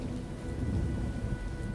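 Rolling thunder with a rain-like wash in the video game Oknytt, a steady low rumble filling the whole moment, loud and continuous with no talk.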